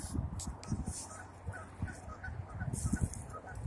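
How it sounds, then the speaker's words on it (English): Canada geese honk out in the open along a walking route, a scattered series of short nasal honks at moderate distance over outdoor background noise. "There's some Canada geese up here."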